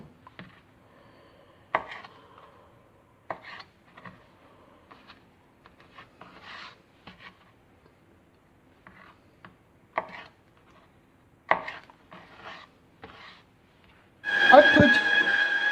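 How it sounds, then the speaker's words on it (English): A knife chops fried prawns into small chunks on a board, with sparse, irregular taps and cuts heard close by in a quiet kitchen, ending with a louder burst of noise. "After the prawns are fried off, we're going to cut them in little chunks."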